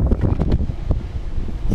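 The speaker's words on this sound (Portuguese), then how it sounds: "Tá ventando demais" Strong, cold wind buffets the microphone outdoors at a skate spot, a loud, continuous rumbling roar with gusty surges throughout.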